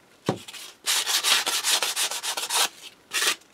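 A sanding block rubs back and forth over the edges of a cast resin piece, with one short stroke, then a run of quick, rhythmic scratchy passes and a final brief burst, close up.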